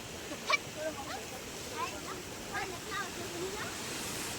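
Floodwater rushing through a swollen farm stream after a heavy downpour, a constant hiss and roar of moving water with someone talking over it.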